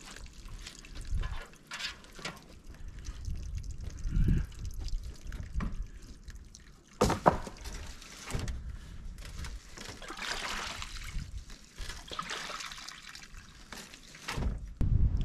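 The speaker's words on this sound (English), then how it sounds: "put a couple cups of bleach in there, and dumped the couple inches of water that was in there" Water mixed with a couple cups of bleach is dumped out of an off-grid cabin water tank, giving a close, uneven run of splashing, trickling and dripping with louder gushes partway through.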